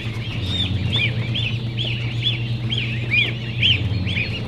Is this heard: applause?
no